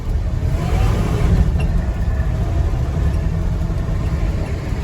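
A 1975 Ford F250 pickup with a 390 engine revs hard while its wheels spin on dirt, giving a loud, steady, close engine roar and rumble with no pauses and no voices.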